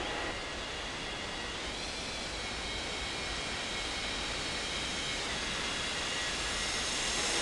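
Airliner landing in the Unmatched Air Traffic Control game, a steady broadband jet roar that holds level and unbroken throughout with no voices over it.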